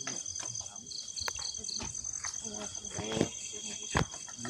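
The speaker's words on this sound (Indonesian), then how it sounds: "suara jangkrik tuh" Crickets chirp in a steady, high-pitched pulse throughout, quiet and a bit distant, with scattered clicks and soft background noise.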